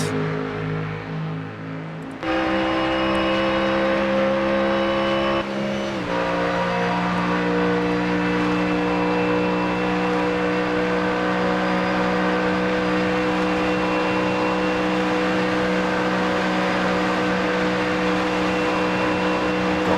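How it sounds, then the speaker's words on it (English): A GT3 race car in the iRacing sim at the Nürburgring, its engine droning loud and close as it accelerates downhill, pitch climbing through a gear change early on and then holding a sustained high-speed roar. "Let's see what the speed can get to on this downhill. 172 we got to there. That's insanely quick in a GT3 car."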